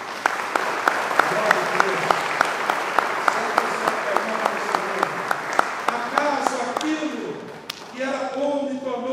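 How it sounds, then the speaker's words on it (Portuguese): A church congregation applauds steadily in dense, sustained clapping with regular sharper claps on top, which fades into crowd voices near the end. "Você pode aplaudir o Senhor Jesus?"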